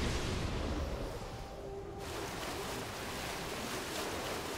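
A waterfall in Black Myth: Wukong gives a constant, dense rushing wash of water. The noise holds steady and fairly loud throughout with no voices.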